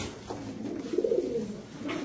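A pigeon gives a soft, low cooing call, close by, in a quiet setting.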